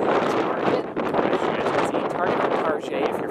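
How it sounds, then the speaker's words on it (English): Strong outdoor wind buffets the microphone in steady loud rumbling gusts, under a person talking. "it's kind of windy"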